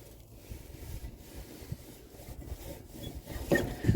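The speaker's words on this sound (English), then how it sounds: "I'm going to try spinning the blade." The mower blade on a John Deere GX75 riding mower is turned slowly by hand, giving faint, irregular scraping and rubbing sounds that grow a little louder toward the end.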